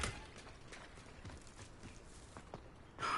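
Hooves of a horse walking in a video game, a steady, fairly soft clip-clop with evenly spaced footfalls over a low background and no talking.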